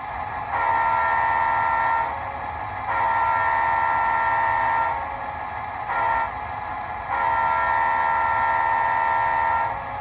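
A Rapido GP38 model diesel locomotive's sound decoder rumbles steadily while a two-tone horn blows in several long blasts with short gaps between them, close and clear.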